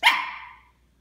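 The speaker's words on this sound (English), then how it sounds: "You've been barking for 10 minutes." A Shih Tzu lets out a single sharp, high bark close to the microphone, which fades quickly into silence.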